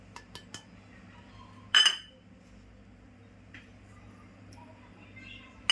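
Bhajani flour is measured into a bowl with a cup: a few faint ticks, then one sharp, bright utensil clink, and later soft taps in a quiet kitchen.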